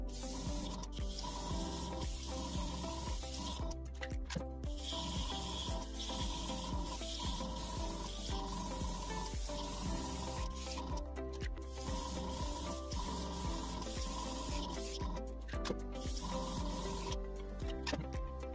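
An airbrush sprays a light coat of white face makeup for haunted house styling, giving a close, steady airy hiss with short breaks as the trigger is released and pressed again.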